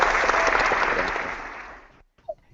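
Recorded applause effect played during an online math teaching session: a dense wash of clapping that fades steadily over two seconds and cuts off, followed by a short faint blip.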